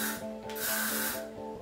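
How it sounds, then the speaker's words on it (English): Hairspray is sprayed onto hair from an aerosol can in a close, loud hissing burst that pauses briefly and resumes, with a faint tonal hum underneath. "So now you want to spray it really good with the hairspray."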